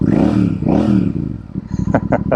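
A Royal Enfield Super Meteor motorcycle with AEW slip-on exhaust pipes roars loudly up close, rising and falling as the rider revs, followed by a few sharp clattering knocks.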